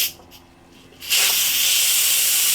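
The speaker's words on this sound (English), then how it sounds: "I'm going to put it over it so that the steam doesn't rise like through the end of the world" Steam bursts from an Instant Pot pressure release in a sudden, loud, continuous hiss that begins after a quieter second and holds steady to the end, with no voices.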